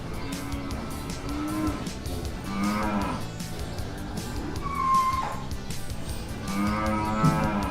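Several drawn-out cow moos at moderate distance, overlapping one another against a busy background of rustling and handling noise.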